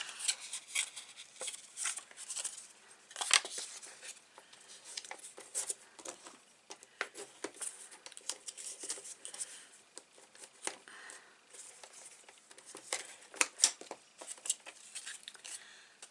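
Paper corners being cut with scissors for a ring album, a series of close, crisp snips and light paper rustling with no talking.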